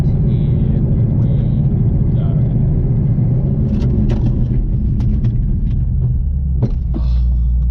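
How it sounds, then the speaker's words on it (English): A 1000hp Mustang GT with braided brake lines slows from 100 to 0 with the clutch in: a loud, continuous low engine and road rumble fills the cabin, with scattered faint clicks and knocks. "I'll put the clutch in and we'll go 100 to a 0"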